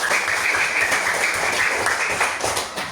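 A classroom of students claps together in a steady, dense patter that fills the whole stretch, close and fairly loud, with no clear voices over it.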